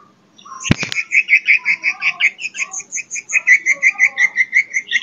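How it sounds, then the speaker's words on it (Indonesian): A swiftlet's short mating call: a rapid series of high, buzzy chirps in a steady pulsing rhythm after a sharp click, close and fairly loud, with no voices. "Terus untuk cuitan pendek ini."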